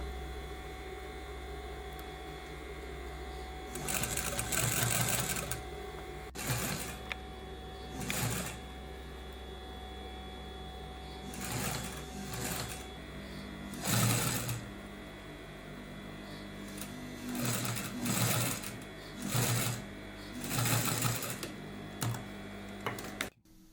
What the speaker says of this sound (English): The double hem must be sewn with a straight stitch on a sewing machine.